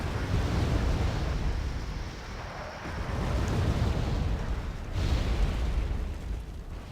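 Aircraft-dropped bombs burst in Wargame: AirLand Battle, a heavy rumbling roar that swells again around the third and fifth seconds, steady and loud with no voices.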